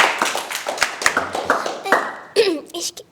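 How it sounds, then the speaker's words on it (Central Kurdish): An audience claps, with scattered hand claps mixed among voices, then a louder, denser burst of applause toward the end. "با چەپڵەیەکی بۆ لێدەن"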